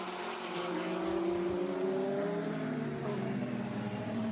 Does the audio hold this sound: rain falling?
no